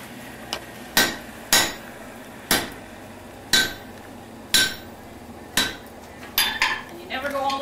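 A blacksmith strikes a hot cut chisel with a hammer, sharp ringing metallic blows landing at an irregular steady pace, close and loud, with quicker lighter taps near the end.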